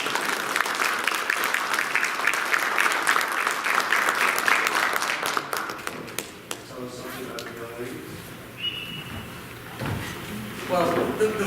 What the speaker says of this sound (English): So if you give Bill a big round of applause.